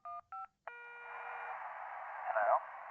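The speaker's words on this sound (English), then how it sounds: "If you can't talk, please press any digit on your phone" Two short keypad digit tones beep in quick succession during a 911 operator video game call, followed by a steady tonal hum with a brief brighter swell near the end.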